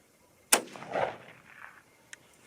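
A single sharp report from a .223 Remington AR-15 rifle cracks out, followed by a rolling echo that fades over a second, then a faint distant click or knock.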